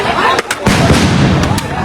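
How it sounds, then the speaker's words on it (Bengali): Loud sound grenades go off in a street clash between police and protesters at Dhanmondi 32, amid tear gas shells, heard as sharp close bursts followed by a roaring wash of noise. "পুলিশও কিন্তু সাউন্ড গ্রেনেড এবং টিয়ার সেল ছুড়ে যাচ্ছে"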